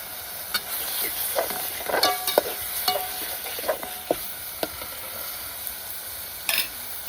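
Mutton simmering in spicy gravy over a wood-fired chulha, giving a steady soft sizzle with scattered crackles and the clink of stirring, close by with no talking.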